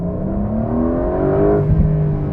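Inside a 2026 Porsche 911 Carrera 4 GTS T-Hybrid 992.2 on the move, a loud, close engine drone rises in pitch as the car accelerates, then shifts and settles, with steady road noise beneath.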